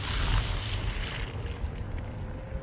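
Water rushes steadily nearby, a continuous broad hiss and rumble of Arroyo Mocho creek flowing over the top of a road, loud and unbroken with no voices.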